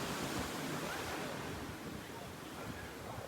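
Steady ocean surf washes onto a beach in a continuous, even roar, close and loud, mixed with some wind and no distinct voices.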